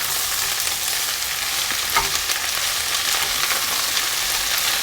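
Caponata vegetables with tomatoes fry in a pan with a steady, close sizzle throughout, broken by a brief stir or clink near the middle.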